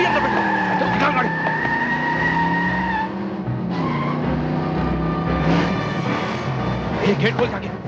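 A car pulls away in a hurry with tires skidding and squealing, a loud engine surging beneath sharp tonal screeches, while someone shouts urgently throughout.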